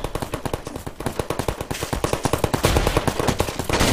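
Rapid automatic gunfire from a turret in the Trouble in Terrorist Town game, a loud steady stream of shots that grows denser and louder toward the end.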